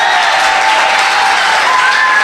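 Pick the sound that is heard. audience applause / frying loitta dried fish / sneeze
audience applause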